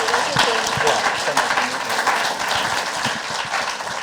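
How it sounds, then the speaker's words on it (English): An audience gives a round of applause for Leni Robredo, a steady wash of clapping under a speaker's voice throughout. "another round of applause for Leni Robredo"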